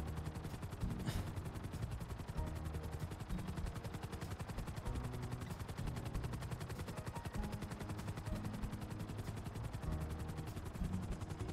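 A steady, rapid mechanical chopping drone runs throughout, like a helicopter's rotor heard at moderate distance, with faint clattering bursts mixed in, from a helicopter in GTA 5.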